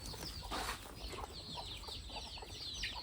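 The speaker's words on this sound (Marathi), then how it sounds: "इकडंच हे आहे आमचं कोंबडी पालन कोंबड्या तर ह्या एकदम प्युअर गावटी गावरण कोंबड्या आहेत" Free-range village chickens cluck and chirp in a busy flock in a coop, several birds calling at once over steady background noise, with some flapping.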